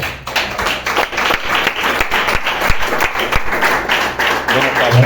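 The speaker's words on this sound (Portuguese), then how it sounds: "vamos louvar o Senhor batendo palmas e agradecendo pelo que Ele fez" A church congregation claps hands together in praise in a steady, ongoing patter, loud and close, with no talking.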